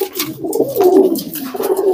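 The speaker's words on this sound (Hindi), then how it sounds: "ये सारे कबूतर आप देख रहे हैं" Pigeons kept in a village in Tonk, Rajasthan, coo loudly and close by in repeated soft, throaty rolling calls that overlap continuously.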